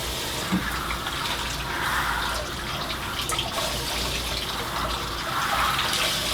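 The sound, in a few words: rinsing a vintage lamp shade with running water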